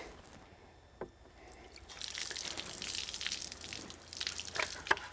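Acid neutralizer liquid dumped and splashing onto a powder-coated surface during a paint restoration, a broad wet hiss building after a brief tap and running several seconds with drippy spatters near the end.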